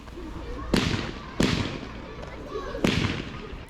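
Moonfall, a low-noise firework cake from Evolution, fires at a public display in Liverpool, giving three soft, muffled thumps spaced about a second apart, each trailing into a hissy crackling wash heard from a distance.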